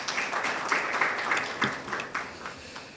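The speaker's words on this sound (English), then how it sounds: "And can we also give him another big round of applause," Audience applause at a payments-platform workshop, a dense, steady wash of many hands clapping throughout, fairly loud, with no talk over it.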